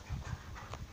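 A Rottweiler dog panting close by in quick, rhythmic breathy bursts, moderately quiet and with no voices.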